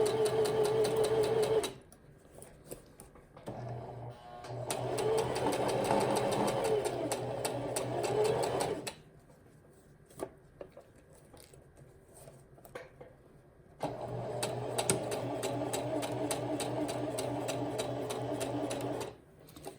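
A sewing machine stitches a tunnel on a string bikini in three long, close bursts of rapid mechanical whirring, separated by quiet pauses with faint handling clicks.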